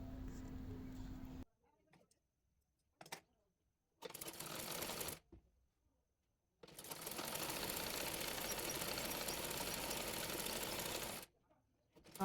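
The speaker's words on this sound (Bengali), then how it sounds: "একইভাবে অপর পাশটিও সেলাই করে নেব।" A sewing machine stitches the side seam of a baby frock in several separate bursts of fast, even mechanical whirring, close and steady, with short quiet gaps between runs.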